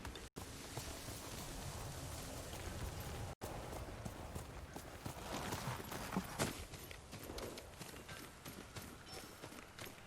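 Horse hooves clip-clopping at a steady run in the game Ghost of Tsushima, a continuous rhythmic patter over broadband game ambience for the whole stretch, with a brief cut near the start.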